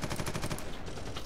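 Rapid automatic gunfire from a weapon in Warhammer Eternal Crusade, a fast string of loud close bursts for about a second.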